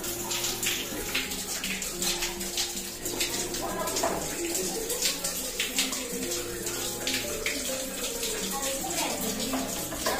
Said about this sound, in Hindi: खोलने के बाद इसमें से पानी गिरना स्टार्ट हो गया है।